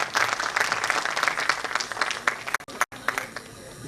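An audience at a music and dance festival stage event bursts into applause, dense clapping that carries on for several seconds before thinning out into a few scattered claps.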